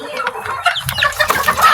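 A hen clucks in a run of short, choppy calls close by, mixed with other chickens and farmyard noise.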